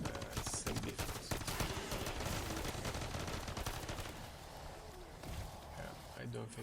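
A Renetti pistol fired rapidly in Modern Warfare 3 Zombies, a loud, dense stream of quick shots running almost continuously for several seconds amid other game noise, with a voice talking over the gunfire.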